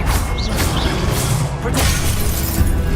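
The Expelliarmus spell in Hogwarts Legacy goes off with sharp crashing, shattering impacts and whooshes over a dense, rumbling game soundscape.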